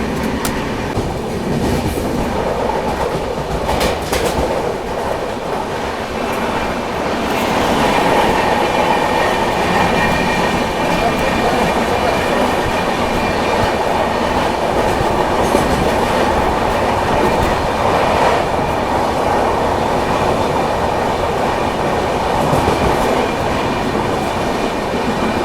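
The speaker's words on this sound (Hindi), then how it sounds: "अभी देखो सामने से ये आ रही है नागपुर पुणे" The Nagpur Pune Humsafar Express rushes past alongside a moving train at night, a loud, sustained rumble with rhythmic clatter of wheels on rails that swells partway through and holds steady.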